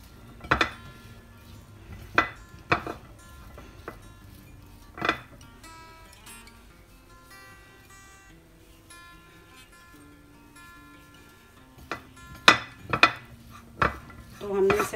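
Macaroni is tossed with maida flour in a bowl, giving scattered clinks and scrapes of a spoon against the dish between quieter stretches of soft stirring.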